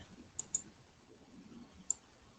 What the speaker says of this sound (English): Left click, right click.